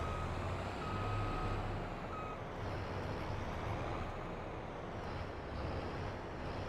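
A vehicle's reversing alarm beeps in Farming Simulator 22 while a trailer backs up. The beeps are faint and steady and sit over a low engine drone with a hiss of wind.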